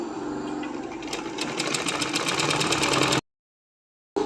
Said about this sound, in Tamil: இங்கே நீங்கள் இப்படி தூக்கி விட தேவையில்லை. ஆனால் இந்த இடத்துல நீங்கள் தூக்கி விடணும். கெட்டி தையல் போடணும்.